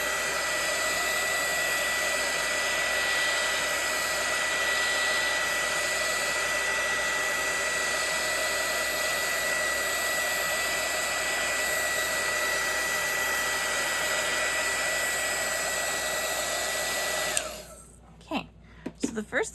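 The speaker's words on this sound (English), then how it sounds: "I'm gonna hit this with my gun here, my heat gun, just to kind of dry it a bit." A heat gun blows a steady, loud, close hiss as it dries watercolor paint on a painting of a magazine butterfly, running unbroken for about seventeen seconds before cutting off, followed by a few faint clicks.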